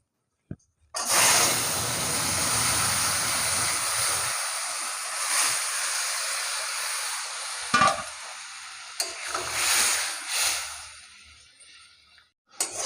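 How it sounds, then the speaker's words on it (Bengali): Vegetables poured into hot oil tempered with five-spice in a wok for a Bengali mourola fish and eggplant curry; a sudden loud hiss erupts and settles into steady close sizzling with occasional stirring clatter. "তেল তরকারিটা ঢেলে দেবো এবার"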